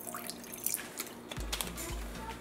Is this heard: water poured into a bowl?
yes